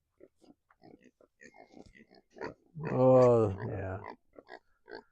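Pigs lying in the sun on a small farm give a short burst of grunting and oinking, close and moderately loud, between brief bits of a person talking.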